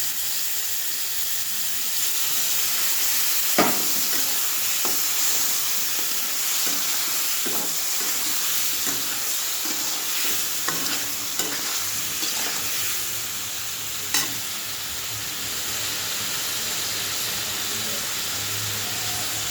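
Spice paste with dried chillies sizzling steadily in a pan, with scraping stir strokes and occasional sharper clicks of the spoon against the vessel, close and continuous with no voices.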